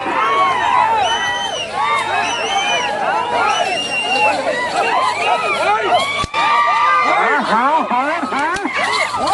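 A large crowd shouts, whistles and cheers continuously at a bullock cart pulling competition in Rudravaram village, Nandyal district, with excited voices overlapping loudly and a sharp clap or bang near the middle.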